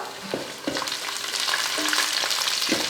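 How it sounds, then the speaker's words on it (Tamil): Onions, garlic and fried okra sauté in a pan with a close, steady sizzle broken by a few soft stirring scrapes. "வெங்காயம் பாருங்கள் நல்லா வதங்கிருச்சு இது கூட நம்ம வறுத்த வெண்டைக்காய்"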